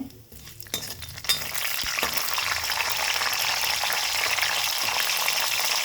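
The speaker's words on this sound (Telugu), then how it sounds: "ఆవాలు వేస్తున్నాను, 1/2 స్పూన్ ఆవాలు చిట్టుపట్టులు ఆడాలి." Half a spoon of mustard seeds splutters in hot oil for ridge gourd chutney, a dense close sizzle with a few sharp pops and clinks near the start, then continuous frying.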